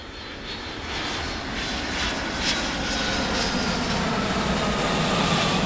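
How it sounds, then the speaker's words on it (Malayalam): Passenger jet taking off from Kuala Lumpur airport at night, its engines building into a loud, sustained roar that slowly swells and stays strong throughout, with no voices. "കോലാലംപൂർ എയർപോർട്ടിൽ നിന്നും ഫ്ലൈറ്റ് ടേക്ക് ഓഫ് ചെയ്തു"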